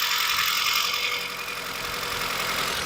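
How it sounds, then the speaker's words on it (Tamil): A Maruti Zen Estilo engine idling with a microphone held close, giving a steady, even mechanical hum with a light ticking texture and no talk. "நீங்களே இன்ஜினோட சவுண்டு தாராளமாக கேளுங்க."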